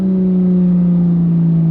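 A 2015 Porsche 911 GT3 with its 3.8-litre flat-six holds a loud, steady, close-up engine note for under two seconds, a constant throaty hum without pauses.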